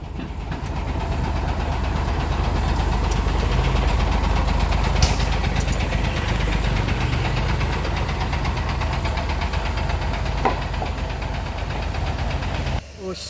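A Suzuki Carry straining up the steep Kedabuhan climb, its engine droning low and continuous with a rough knocking quality, loud and close throughout.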